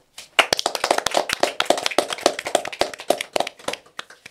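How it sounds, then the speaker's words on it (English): A small group of people clap in quick, uneven bursts at a podcast-style chat, sharp hand smacks overlapping closely for about four seconds at close range, with no talking over them. "Are we clapping it up again?"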